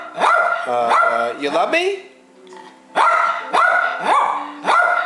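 A small Yorkie barks repeatedly in short high-pitched yaps, close by, while a person talks briefly between the barks.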